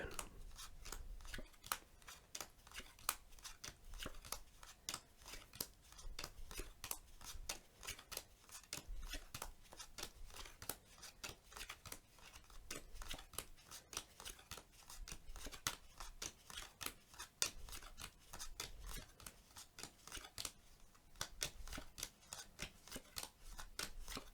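Playing cards are dealt one by one through a deck in a quiet, close setting, a long steady series of soft crisp snaps and flicks in an even rhythm.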